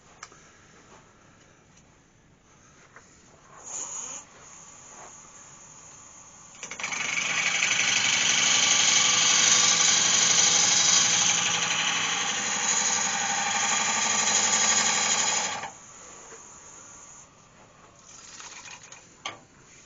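Sanding a natural-edged oak bowl spinning on a wood lathe gives a steady, loud broadband hiss and whir for about nine seconds in the middle, with quieter motor hum and brief scrapes before and after.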